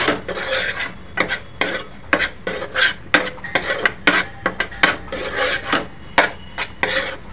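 A utensil works an anda ghotala egg mixture, seasoned with pav bhaji masala, around a pan; close, rhythmic scraping strokes come in quick bursts with short pauses between them, loud and clear with no talking.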